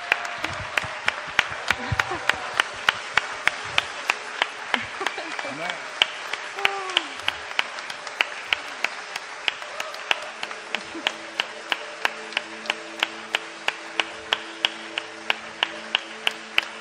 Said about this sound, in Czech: Prosím, velký potlesk.